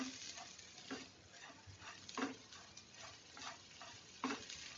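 Coriander leaves frying in a pan for peanut chutney while being stirred, with a soft steady sizzle broken by repeated scraping strokes roughly every second, fairly quiet and close with no talking.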